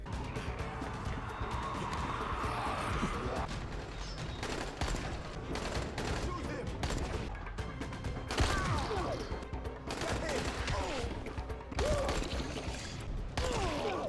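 Gunfire from a player's gun in the zombie game Dying Light, with sharp shots popping in irregular bursts over a game soundscape and some crashes.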